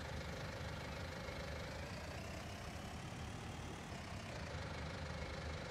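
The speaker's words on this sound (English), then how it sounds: "This tractor really got very much horsepower." A powerful tractor engine idles in Farming Simulator 19 on the Sosnovka map, a continuous, even low rumble that holds steady throughout with no voices over it.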